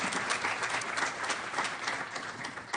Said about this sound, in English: How about a round of applause for those hardworking ladies?